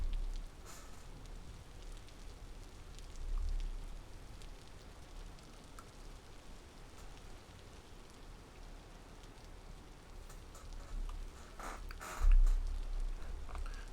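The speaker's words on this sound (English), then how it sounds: "Oh, it's raining." Rain falls in the survival game Vintage Story, a steady, even hiss of pattering drops that continues throughout with a few slightly louder gusts and no speech.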